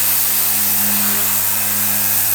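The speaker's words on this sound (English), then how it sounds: "keeping that bit of pressure on that side of the sander so it's not hitting it" Steady whir of a power sander with a soft pad working a drift car body panel, a continuous close buzzing hum that holds level throughout without pauses.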